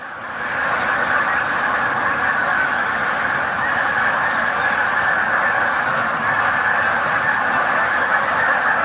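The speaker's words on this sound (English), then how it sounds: "I have never seen this many Canadian geese before" A large flock of Canada geese honks continuously, a dense, loud chorus of overlapping calls that keeps up without a break from just after the start.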